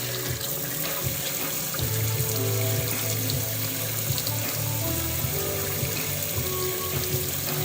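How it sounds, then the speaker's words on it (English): Hot water runs from a tap into a container during a tie-dye session, a steady close rushing splash that holds unbroken from start to finish with no talk over it. "In the meantime, I'll go ahead and get this filled up with the hot water."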